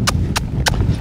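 Three crisp hoof strikes of a trotting horse land at an even pace over a steady low rumble, close and fairly loud.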